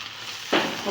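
Okra (ladies finger) frying in a pan for a dry curry after lemon juice goes in: a low hiss, then a sudden burst of close, bright sizzling about halfway through that keeps crackling to the end.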